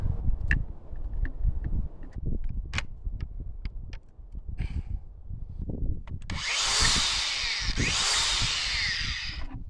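A 40-grit flat sanding disc on a power tool roughs up a wooden beehive, starting with scattered knocks and scrapes, then a loud harsh grinding rasp for the last few seconds.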